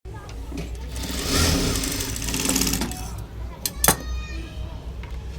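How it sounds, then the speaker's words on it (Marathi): A sewing machine stitching tucks on a size 36 blouse, a continuous motor whir that swells and then eases, with a metallic clank near the end, close and fairly loud. "राईट साईडला पण आपण जे टक्स मारून घेतलेले आहेत ते आता आपण स्टिच करून घेणार आहे"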